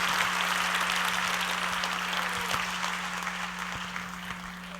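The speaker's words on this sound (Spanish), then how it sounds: "Dale un fuerte aplauso al Señor." A church congregation applauds steadily and loudly throughout a Friday evening service, a dense continuous clatter of many hands over a low electrical hum.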